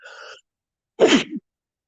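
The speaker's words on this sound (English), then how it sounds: "There's that sneeze from the first video." One sharp sneeze close up, preceded by a short breathy intake, then silence.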